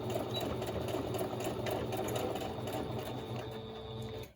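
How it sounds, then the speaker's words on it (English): A domestic sewing machine stitching backward to lock a seam at the end of a row, giving a steady, close, continuous mechanical whir and rattle that runs alone for several seconds before stopping abruptly. "I'm going to back stitch."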